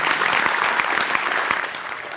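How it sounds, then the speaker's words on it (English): An audience at an open forum event claps, giving a loud, dense and steady burst of applause that lasts about two seconds. "Give a round of applause for Doc."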